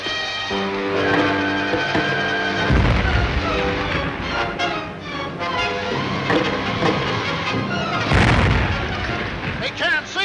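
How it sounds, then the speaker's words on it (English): Gas bombs exploding during an air raid in a 1940 adventure serial: heavy rumbling booms and blasts, repeated across the scene with loud surges, over a dense layer of old film sound and music. "They're dropping gas bombs."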